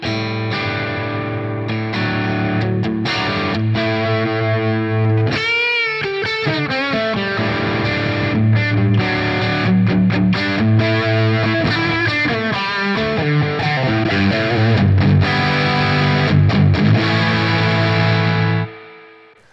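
Electric guitar played through a BluGuitar Mercury amp on its vintage channel at low gain, a sustained distorted riff of chords and bends with a faint chorus-like shimmer, loud and continuous until it fades at the end.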